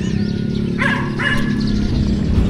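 A dog gives two quick, sharp barks or yips mid-clip over a low, steady background rumble in a cemetery.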